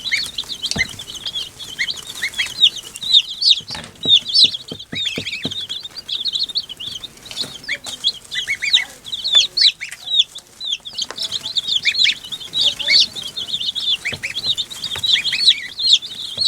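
Young chicks in a tub cheep and peep continuously in high, rapid overlapping chirps close by, with occasional soft flutters and scratching.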